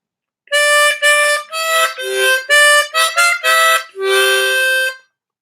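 Ode to Joy is played on a diatonic harmonica as a clean solo melody of about nine sustained reedy notes in a steady, even rhythm, close and alone.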